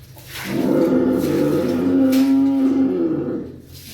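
A cow gives one long, loud, close moo lasting about three seconds, rising and then fading, with no other voices.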